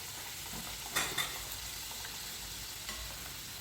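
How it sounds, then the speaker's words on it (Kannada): Vegetable spring rolls deep frying in hot oil, heard as a quiet, steady sizzling hiss with a few brief clatters near the start and one more later, nearby and without speech. "ಎಣ್ಣೆ ಕಾದಿದೆ. ಸೊ ಮೆತ್ತಗೆ ಎಣ್ಣೆಯಲ್ಲಿ ಬಿಟ್ಟು ಫ್ರೈ ಮಾಡ್ಕೋಬೇಕು."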